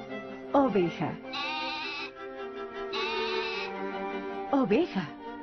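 Sheep bleat in a few wavering, nasal calls at close range, with short vocal bursts between them.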